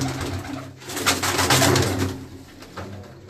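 Salara pigeons coo steadily in a loft setting, a layered, rolling murmur of several birds close by, with no voices over it.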